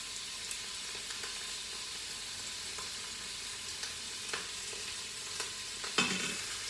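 Two cloves of pressed garlic sizzle in a pot while chili is cooked in a quick cooker, giving a steady soft frying hiss broken by light stirring clicks, with a sharper scrape near the end and no talk.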